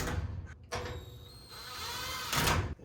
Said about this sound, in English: and a couple screws go in.